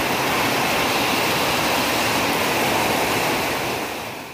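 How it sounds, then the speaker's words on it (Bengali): Heavy rain drumming on the tin roof of a kitchen, a dense, loud and continuous wash of noise that fades slightly at the end. "এটা ছিল রান্নাঘরের টিনের আওয়াজ। মানে যখন বৃষ্টি পড়ছিল তখনকার।"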